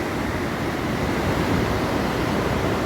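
The fast-flowing Alaknanda river near its confluence with the Bhagirathi gives a steady, dense roar of rushing water, close and continuous, with no voices over it.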